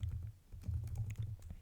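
Computer keyboard typing in short, uneven bursts of soft clicks, close and fairly quiet, with no voice.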